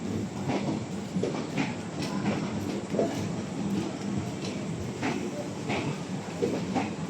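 Howrah–Raxaul passenger train 13043 running on rails, giving a steady rumbling roll with repeated clicking of wheels over rail joints, loud and continuous throughout.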